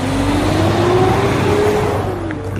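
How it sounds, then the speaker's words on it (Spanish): A car accelerating hard, its engine note climbing steadily in a loud continuous whine before fading off at the end. "Asustado, el chofer aceleró lo más rápido que pudo."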